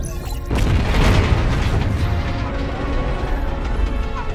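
Starship Excelsior blowing apart in a Star Trek Picard space battle: a loud booming blast erupts after a half-second lull, then a sustained rumbling, crackling roar with mechanical rattles that holds steady to the end.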